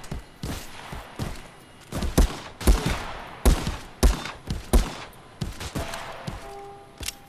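Gunfire in the VR shooter Contractors: a string of sharp, loud shots in uneven bursts, some close together, with faint tonal game sounds near the end.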